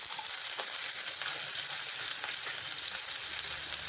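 Chopped ginger dropped into hot oil for a coconut milk chicken dish, giving a faint, even, continuous sizzle with a few soft crackles and no voices.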